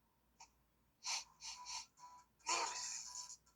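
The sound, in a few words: sneeze in Detective Pikachu video game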